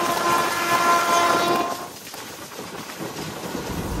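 A train coach on the Tirupati–Villupuram line rattles along the track, opening with a sustained tonal horn-like blare that fades after two seconds into rough, rumbling wheel noise, with no speech.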